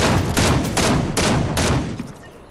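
Rapid bursts of video game gunfire, loud and close, come in several repeated volleys before trailing off toward the end.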